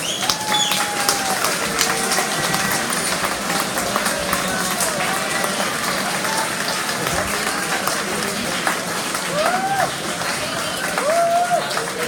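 A graduation audience applauds the junior class with steady, moderately loud clapping across the room, scattered cheers and whistles rising above it and voices talking underneath.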